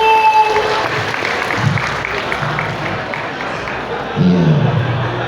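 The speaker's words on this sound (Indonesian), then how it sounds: "Aplaus yang meriah untuk Kang Karmin." Lively applause and cheering from an audience welcoming guest Kang Karmin at a police farewell-and-welcome evening event, steady clapping throughout with a louder crowd swell near the end.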